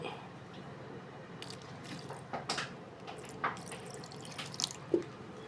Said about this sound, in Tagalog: Ayan guys, lagyan natin konting tubig.